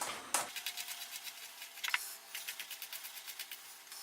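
Kitchen knife chopping garlic on a cutting board for beetroot ketchup, a steady run of quick, crisp taps repeating at an even rhythm close up, with no talking.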